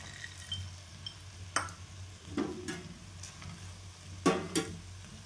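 Red chilies, tomato and peanuts roast for chutney in a pan, giving a quiet, soft sizzle with a few scraping stirs and light clinks of a spoon against the metal.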